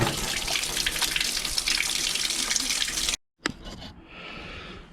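Coolant drains from the oil filter housing of a BMW 335i in a loud, splashing, continuous pour, cutting off abruptly, then followed by a quieter trickle.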